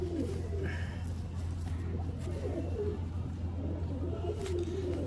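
Pigeons cooing at a busy pigeon market, soft repeated coos over a steady low hum and background murmur.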